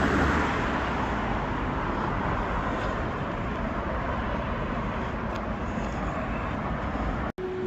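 Steady road traffic roars past a park in a town in Reading, Britain, a dense continuous rush of passing cars with no breaks, loud and close throughout.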